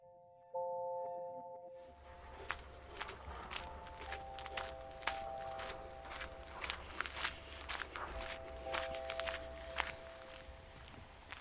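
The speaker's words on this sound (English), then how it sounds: "I'm going through the grass right now." Footsteps walk steadily through grass near a beach on a summer birding outing, a run of close, crunchy swishing steps over a low outdoor rumble, with a soft tonal hum early on.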